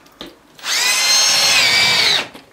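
A power drill drives a screw through a metal rail for a plasterboard frame into a wooden floor: a brief tap, then a loud, close, high whining spin for under two seconds before stopping.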